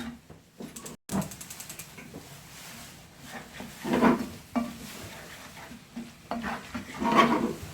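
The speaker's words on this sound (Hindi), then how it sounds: "इसमें अच्छी तरह मिक्स कर लें।" Chicken keema with onions and garam masala being stirred in a pan, with intermittent scraping and clinking of a spoon against cookware in a few separate bursts, fairly quiet and close, with no talking.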